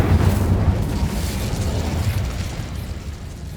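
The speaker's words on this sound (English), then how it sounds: "Incendio!" Incendio fire spell cast in Hogwarts Legacy: a loud, dense burst of roaring flame with a heavy low rumble that holds steady for several seconds before slowly easing off.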